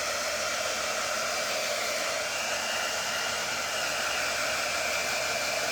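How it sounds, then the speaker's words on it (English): A steady, loud whoosh of hot air blowing from a heat tool, constant and unbroken from start to finish. "I brought my dryer, my heat tool."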